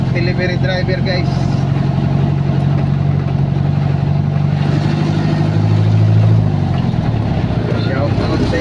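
A delivery truck's engine hums steadily from inside the cab while driving near Ninoy Aquino International Airport in Manila, a constant mid-range drone with talk over it.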